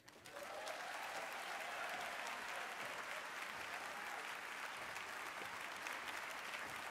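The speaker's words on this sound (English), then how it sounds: "Let's give him another round of applause, please." Audience applause at a lecture-series event honoring Elihu Harris, steady and sustained clapping from a large crowd heard at some distance, filling the whole stretch without voices.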